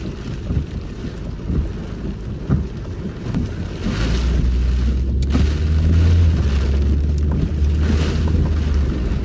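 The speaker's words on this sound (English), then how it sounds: "Wind with the rain in Edmonton." Driving through a severe summer thunderstorm in a residential area of Edmonton, Alberta: loud wind buffets the car, heavy rain beats down, and a deep low rumble swells and holds steady midway through.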